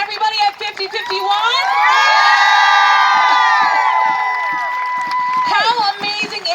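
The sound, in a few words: crowd applauding and cheering at a rally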